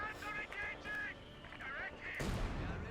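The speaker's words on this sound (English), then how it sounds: "Wait, we have artillery. We have our confirmation of artillery." Artillery fire in Company of Heroes 2 during a 4v4 match on the White Ball Express map: a loud, sharp blast breaks in after a stretch of spoken commentary, and a crackling, rumbling decay follows.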